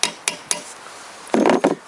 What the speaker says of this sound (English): for that I inserted my socket in there, and then a little bit hammering